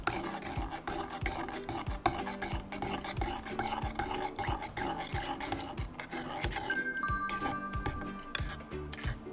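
Steady scraping and light clinking of a utensil stirring miso into shrimp miso soup in a pot, continuous and close, with no talking.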